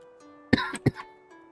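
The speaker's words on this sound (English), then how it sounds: "My coughing is getting worse and worse." Two short, harsh coughs close together, close to the mic and fairly quiet, with faint background tone around them.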